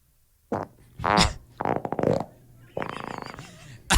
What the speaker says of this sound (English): Oh, that's a new fart